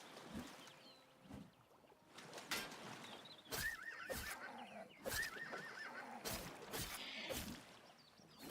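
A paint horse in the video game Oblivion Remastered whinnies several times in high, wavering bursts, with hoof clops and splashy water-like ambience around it and no talking.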